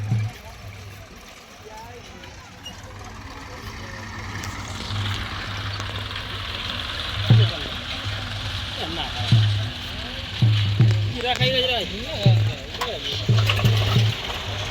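Many tractors idle together in a village field during an Akha Trij ritual, producing a low, steady engine rumble with rising revs and knocks, while people talk over it nearby.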